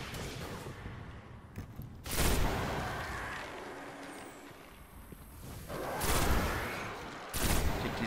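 Bursts of gunfire from the video game Destiny, with loud broadband blasts around two, six and seven seconds over a steady din of game action, with no talking.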